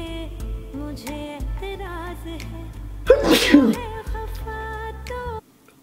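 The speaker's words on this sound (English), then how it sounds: "Oh, I'm about to sneeze, I think." A single loud sneeze bursts out near the middle, over a busy background of music and game sounds.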